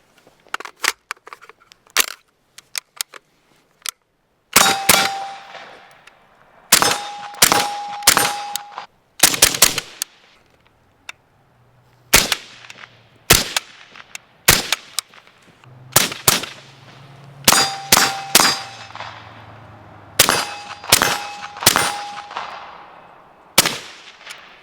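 REAP Weaponry SCY suppressed bullpup rifle fired in repeated sharp reports, single shots and quick clusters separated by short pauses, each with a metallic ring and a brief echo.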